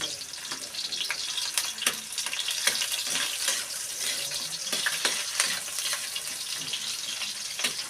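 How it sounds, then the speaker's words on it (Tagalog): Onion and garlic sauté in a pan for ketchup-style chicken, a steady bright sizzle running throughout with occasional sharper crackles and spatters, close and fairly loud, no voices. "ginigisa ko na po ang sibuyas at bawang."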